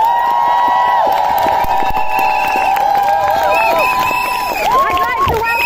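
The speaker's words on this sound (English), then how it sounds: "so give a massive round of applause for them as well" A large crowd at an outdoor support rally cheers and shouts loudly and without a break, with whistles and raised voices mixing in.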